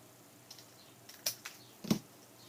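Two stacked sheets of paper trimmed together on a paper trimmer for a stamped card: a few faint, sharp clicks and a louder cutting snap near the end, close by in a quiet room.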